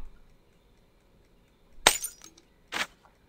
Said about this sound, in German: Ich werde die Flasche zerbrechen müssen.